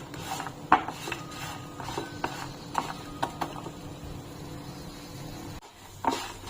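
A spatula scrapes and clinks against a pan as grated coconut, coriander seeds, cinnamon, cloves and cardamom are dry-fried for spinach rice. The utensil taps come in an irregular rhythm over a faint background hiss, with no speech.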